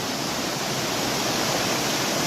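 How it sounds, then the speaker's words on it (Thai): Steady, dense roar of a waterfall in Khao Laem National Park, Kanchanaburi, Thailand, loud and continuous with no breaks, filling the whole clip. "ตรงนี้เป็นบริเวณน้ำตก"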